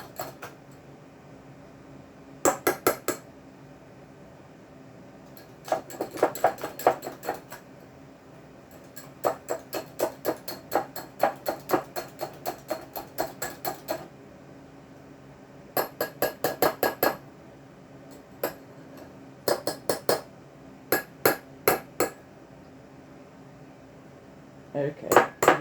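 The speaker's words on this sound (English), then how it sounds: "Just whisk that little egg up" Egg being whisked in a small bowl while making homemade apple fritters, heard as bursts of rapid metallic clinking and tapping against the bowl, separated by short pauses, fairly close and alone.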